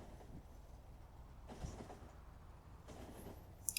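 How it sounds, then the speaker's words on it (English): A train runs in Factorio, a faint low rumble of rolling wheels with soft rhythmic clicks and a few brief clunks, steady and distant throughout. "I love the trains. I really do."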